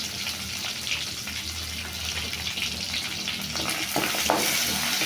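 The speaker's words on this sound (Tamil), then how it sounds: "சின்ன வெங்காயம், பூண்டு எல்லாத்தையும் வதக்கிக்கலாம்." Shallots, garlic and curry leaves sautéing in hot oil for fish kulambu, a dense continuous sizzle that hisses loudly and evenly throughout, growing slightly fuller toward the end.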